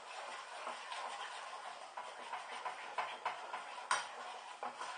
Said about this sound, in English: Again, stir it all back in.